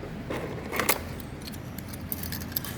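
A Honda Click 125 smart key remote handled up close, with light metallic jingles and small clicks over a steady low background hum.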